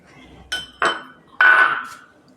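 Sweet halwa is dropped into a metal vessel, making three distinct metallic clinks and clanks, the last the loudest with a ringing tail.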